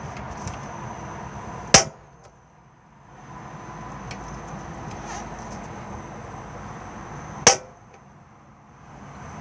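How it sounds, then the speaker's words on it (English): A two-ring gas burner's igniter in a Randger R535 camper van gives two sharp, loud clicks several seconds apart against a quiet background. "Just push in, twist and press the igniter."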